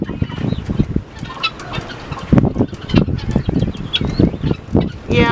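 A one-legged guinea fowl calls close by, a run of loud, harsh, repeated clucking cries in an irregular rhythm, with other farmyard birds faintly in the background.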